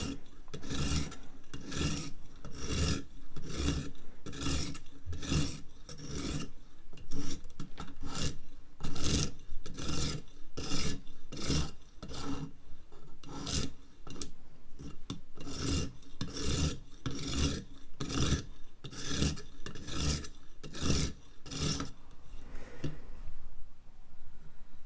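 Steady, rhythmic rasping strokes of a serrated knife being sharpened, repeated back and forth dozens of times at an even pace, close and fairly loud with no talking over it.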